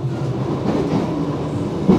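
Old ex-London Underground tube train running on the Isle of Wight Island Line, a steady loud rumble of wheels on rail with clickety-clack beats, heard close and continuous with no talk.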